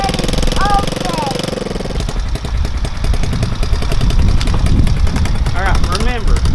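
A 110cc ATV four-wheeler engine runs steadily at low throttle with a rough, knocking idle chatter, loud and close, while people talk over it in the first part.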